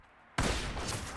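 A single sudden gunshot in a survival video game, an abrupt loud crack followed by a sustained, dense report for about a second after a quiet start.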